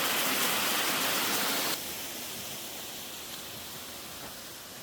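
Steady rain falls beside a forest valley stream near Gapyeong, a broad even hiss of rain and flowing water, louder at first, then settling into a softer, constant wash with no voices.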